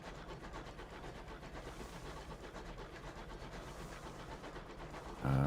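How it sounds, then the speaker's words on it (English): The player's vehicle engine in a video game gives a continuous low, rough rumble with a faint rhythmic churn, steady throughout before a brief louder burst at the very end. "That was just my engine."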